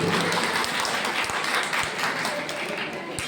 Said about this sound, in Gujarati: ફરીથી એક વખત તમારા માટે જોરદાર તાળીઓ કરીએ